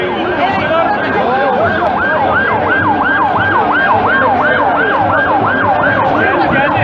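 A loud wailing ambulance siren cycling rapidly up and down, steady and close, with road rumble underneath, arriving after a flare explosion before a football derby.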